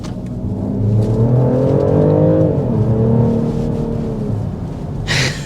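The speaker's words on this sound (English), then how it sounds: "let's go ahead and start with a hard acceleration" 2024 BMW X5 50e plug-in hybrid with an inline-six, accelerating hard in hybrid mode: a loud, rising engine roar sweeping upward through a gear change, then easing off near the end.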